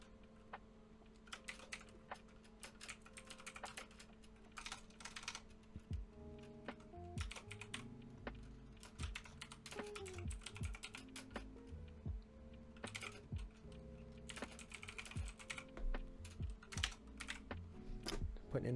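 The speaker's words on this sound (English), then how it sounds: "Typing out some notes so I can pull a video out of that" Rapid clicking of a computer keyboard as notes are typed during an online poker session, irregular bursts of keystrokes close to the microphone over a low steady hum, continuing for the whole stretch.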